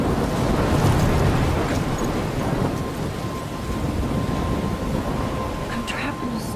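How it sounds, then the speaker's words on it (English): Heavy rain and low rolling thunder form a loud, continuous storm roar in Life Is Strange, with a dense downpour hiss over deep rumbling throughout. "I'm trapped in a storm?"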